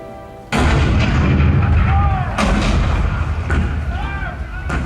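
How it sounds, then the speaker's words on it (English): Cannon fire for the Fort Sumter scene in a theme-park presidential show: a sudden loud boom opens a sustained rumbling barrage, with further heavy blasts about two, three and a half and four and a half seconds in, and faint voices mixed beneath. "The cannon spoke for war, bitter, violent, and devastating."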